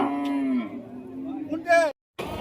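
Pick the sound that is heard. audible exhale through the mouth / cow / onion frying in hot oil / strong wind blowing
cow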